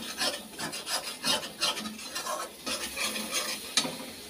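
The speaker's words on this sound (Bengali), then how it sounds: "নুনটা দিয়ে মশলাটা কষিয়ে নিই।" Spice paste with salt being sautéed in oil, a steady rasping scrape of stirring with soft sizzle underneath, repeated strokes at moderate, close-up volume with no voices.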